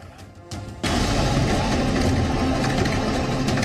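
A farm tractor engine runs steadily in flood-hit Bengaluru, a dense low rumble that kicks in abruptly after a quieter moment and holds at an even, close level.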